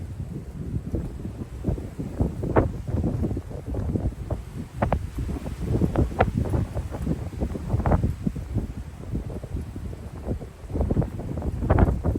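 Strong wind gusting near 40 miles an hour buffets the microphone in irregular, blustery gusts, a loud rumbling roar that surges and eases throughout with no voices.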